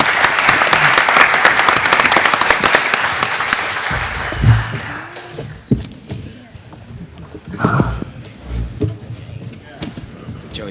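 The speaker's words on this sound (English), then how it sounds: "Big round of applause," A large audience applauds after a panel discussion; dense clapping fills the first few seconds, then thins out as several people start chatting nearby.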